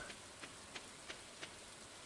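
Soft, steady game rain falls in Stardew Valley, a faint even hiss with a few light drop ticks spaced through it, no voices.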